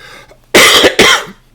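Two loud, close coughs from a man with a lingering cold, a sharp burst then a second a moment later, each with a raspy throaty tail, in a quiet room.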